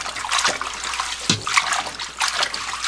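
Water drains and trickles from freshly washed young radish greens set in a kitchen sieve, a close, continuous splatter and dribble with a few heavier drips and no voices.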